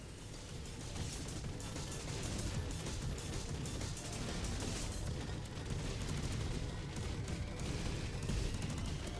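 Repeated grenade blasts in the roguelike shooter Picayune Dreams, a dense, continuous barrage of booming explosions and crackling impacts layered over loud game action, with no pauses.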